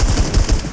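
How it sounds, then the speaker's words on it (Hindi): Gunfire in the PUBG Lite shooter game, a quick burst of loud, close rapid shots fired in a short rhythmic volley. "फायरिंग हो रही यहीं पर ही"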